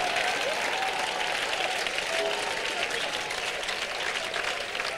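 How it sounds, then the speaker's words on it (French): A congregation at a church intercession prayer gathering claps continuously, a thick, sustained patter of many hands at even loudness throughout. "Clappings."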